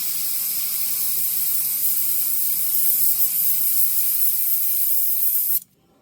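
An airbrush sprays paint carefully along a French curve while painting a cardinal's feathers, a steady close hiss that holds evenly for over five seconds and then cuts off abruptly into near silence.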